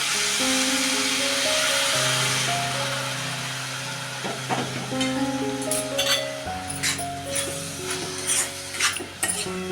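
Milk poured onto grated fresh coconut and sugar in a pan for coconut ladoos, followed by close scraping and clinking of a spoon stirring the mixture. Background music plays throughout, loudest at the start.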